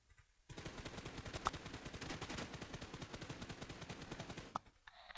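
Rapid automatic gunfire from the mobile battle royale game PUBG Mobile rattles in a steady burst lasting several seconds, starting abruptly after a brief quiet moment and cutting off near the end.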